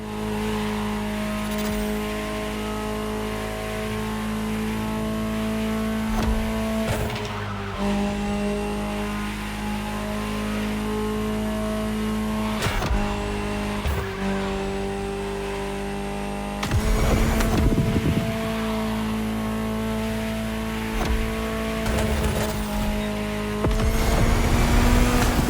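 A Ferrari F80 supercar engine drones steadily while driving, with a sustained mid-pitched note and a few sharp revving surges and gear-change bursts partway through.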